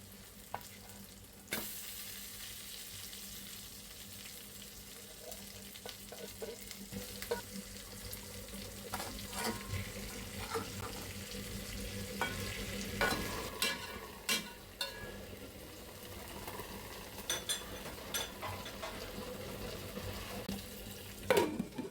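Cut hilsa fish frying in a fried curry masala gives a soft, continuous sizzle with scattered clicks and scrapes of stirring throughout, fairly quiet and close.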